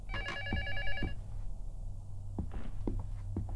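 A telephone rings in a haunted-house horror video game, a clear repeated electronic bell burst over a low droning background hum, followed by scattered soft thumps like footsteps.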